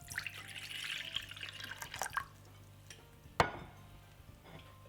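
A cup of water is poured into a medium-sized pan in a home kitchen, a soft splashing stream for about two seconds, then a few faint drips and a sharp metallic knock of the pan, all fairly quiet.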